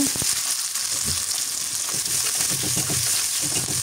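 Vegetables with dal frying steadily in oil until browned, a dense, continuous sizzle close by with faint stirring scrapes underneath, no voices.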